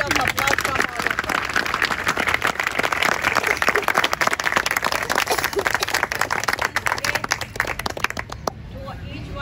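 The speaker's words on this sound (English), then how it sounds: "They really deserve a big round of applause." Children at a school sports day get dense, sustained applause from a large outdoor crowd, loud and continuous, with crowd chatter underneath before it cuts off near the end.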